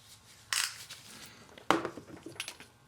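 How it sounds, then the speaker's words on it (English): Light metallic clinks and a sharp clatter as a 22mm deep well socket on a 1/2-inch drive is fitted onto the VTEC oil pressure switch of a Honda Accord, two brief close knocks with faint rattling after. "Pop a 22mm deep well socket on there."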